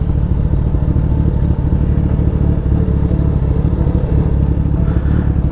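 Motorcycle riding on the road with only the rear brake in use: a steady, loud engine drone with constant rumble and wind noise, close up and unbroken throughout.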